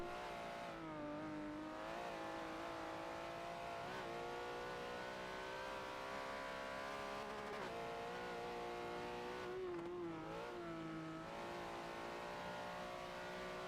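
Race cars in a Forza driving game lap Sonoma Raceway, one engine droning close and steady while its pitch climbs and drops with gear changes, under a continuous wash of tire and road noise, with no voices.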